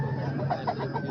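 An Aseel rooster at a livestock market in Tando Adam gives soft, repeated clucks over a steady hum of market crowd noise and distant chatter.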